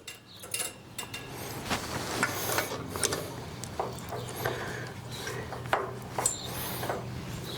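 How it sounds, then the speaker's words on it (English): Wrench work tightening a jam nut on a Sonex aircraft exhaust: close, irregular metallic clicks, scrapes and rubbing taps across the span, moderately loud, with no talking. "now we need to tighten the jam nut so that stays good"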